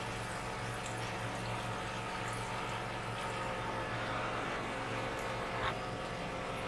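Water is added to a pot of simmering mangochiyan made from moong dal, giving a low, steady watery pour and bubbling hum that runs continuously at moderate, somewhat distant level.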